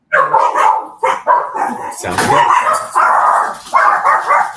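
A pet dog barking indoors at home, several loud close yips and barks in quick bursts mixed with a voice speaking briefly.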